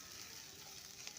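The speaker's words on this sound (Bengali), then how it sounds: "এখানে আমি পেঁয়াজ ভেজে নিচ্ছি, তেজপাতা দিয়েছি, রসুন দিয়েছি" Onions frying in oil with bay leaf and garlic give off a faint, steady sizzle and crackle in a home kitchen, a soft hiss with a few small pops and no voices.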